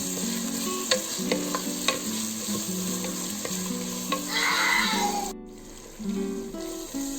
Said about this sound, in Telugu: కొద్దిగా కరివేపాకు, ఒక 1 మినిట్ ఫ్రై చేసుకున్నామండి